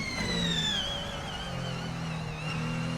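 The 3-liter V6 of a Ferrari 499P in the racing game Assetto Corsa howls at high revs, a loud, continuous engine whine that sweeps down and back up through gear changes and corners, with no talking.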